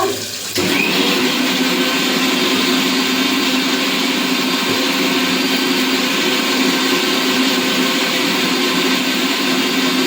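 An electric blender grinds spice paste, a loud, steady motor whir that starts abruptly after a short pause and runs unbroken to the end.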